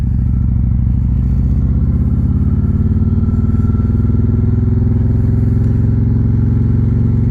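Harley-Davidson Street Glide CVO motorcycle riding at steady speed, a loud continuous low engine rumble and road drone with no breaks, close and alone without talk.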